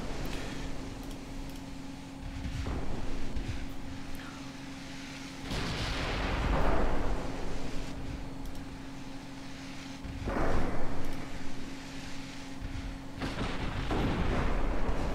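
Secondary guns firing on a warship in a naval strategy game, heard as several booming shots spaced a few seconds apart, each with a rumbling tail over a steady low background hum.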